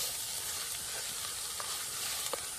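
Ground masala paste roasting in a hot kadhai for a crab curry hisses in a steady, dense sizzle throughout, with a couple of faint stirring taps.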